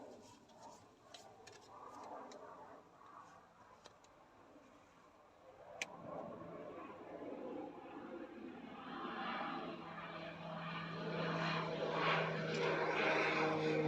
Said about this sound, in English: Sorry for the sound of the planes, but we had fires here.